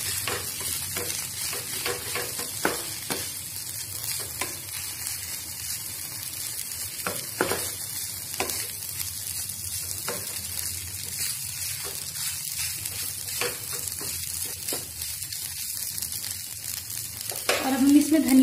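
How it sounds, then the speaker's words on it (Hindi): Vegetable pulao is mixed and stirred in a pan: a steady low sizzle with repeated scraping stir strokes, growing louder toward the end. "मिक्स करें अच्छे से इसे।"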